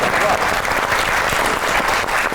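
Loud studio audience applause on a comedy talk show, a dense burst of clapping close by, with a voice briefly audible underneath.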